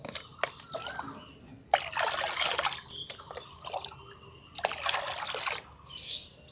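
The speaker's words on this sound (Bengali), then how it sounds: "এই 10 লিটার জলের মধ্যে প্রায় 1 লিটার মতো আমি এই লিকুইড সারটি দিয়ে দিলাম।" Liquid fertilizer is poured into about ten litres of water in bursts, giving splashing, trickling pours separated by short pauses and drips.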